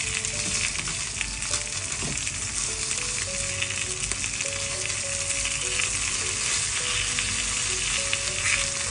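Food frying in a pan for a packed bento lunch, just flipped over, with a steady close crackling sizzle throughout and faint high tonal beeps or melody in the background.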